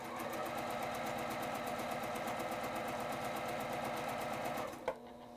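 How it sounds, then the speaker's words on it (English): A sewing machine stitching quilt fabric runs at a steady fast hum with a rapid mechanical chatter, close and continuous, then stops abruptly near the end with a small clunk. "Don't run over those pins with your sewing machine."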